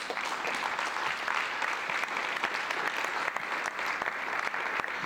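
A church congregation claps steadily throughout, a continuous even wash of many hands at moderate distance with no voices standing out.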